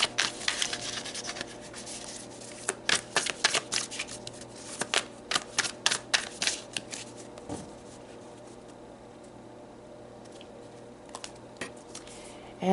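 Tarot cards being shuffled by hand: a run of crisp riffling and soft rubbing bursts close to the mic, busiest in the middle, then easing to quiet handling toward the end, with no talk.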